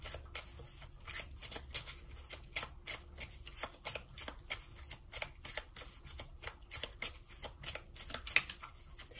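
Playing cards from a plain deck being shuffled and handled up close, a steady run of quick riffling snaps and soft slides with brief pauses, no talking.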